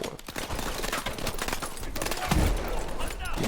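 Rapid gunfire and heavy shotgun blasts from the Call of Duty: Advanced Warfare campaign crackle densely throughout. The game's loud battle effects play with voices talking over them.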